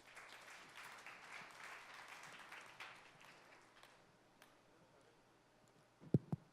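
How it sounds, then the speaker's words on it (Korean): Audience applause at a 2017 missionary conference, a broad steady patter of many hands clapping at a distance that gradually thins and fades, followed by a couple of close knocks. "우리 고광태 선교사님 박수로 환영해 주시기 바랍니다"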